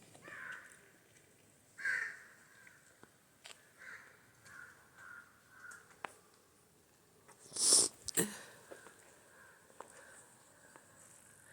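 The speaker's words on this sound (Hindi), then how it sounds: "आपको सब जगह पक्षियों की आवाज़ें सुनाई देंगी इधर।" Birds call repeatedly in a quiet Himachal Pradesh village at early morning, with crow-like caws near and far, scattered single calls and one louder burst of calling; no talk.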